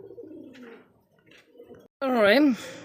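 Male and female pigeons coo at a pigeon market, with low murmuring sounds at first and then one loud, close, drawn-out coo near the end, and a voice nearby.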